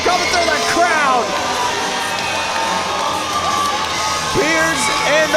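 A loud wrestling crowd cheers, whoops and shouts as a tag team makes its way through the fans, a dense, continuous roar with individual voices rising above it.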